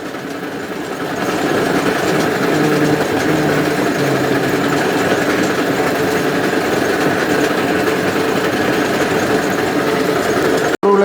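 A wooden cold-press oil mill (marachekku) crushing sesame seeds, its engine-like drive running as a steady, continuous mechanical drone with a faint hum throughout, loud and close, starting softly then holding level until a brief drop near the end.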